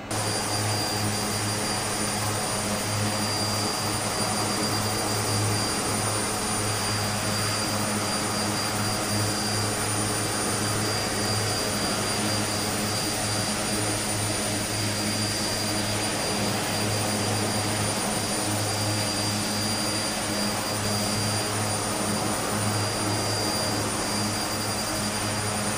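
Twin Otter turboprop engines in Microsoft Flight Simulator, a steady loud droning whine with a fixed high tone and deep propeller hum, unbroken for the whole stretch with no voices.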